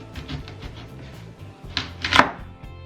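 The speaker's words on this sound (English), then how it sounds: "we cut the end. Yep, chop the end off." A knife chops the end off a leek on a cutting board, a few soft taps followed by one louder, sharper thwack near the end.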